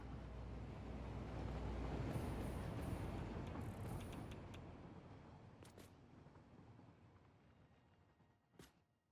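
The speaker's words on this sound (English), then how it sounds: "Here comes the train." A train rolls past in the Satisfactory video game: a broad rumbling roar builds and then fades away, with a few faint metallic clicks near the end and one sharp knock as it recedes; no speech.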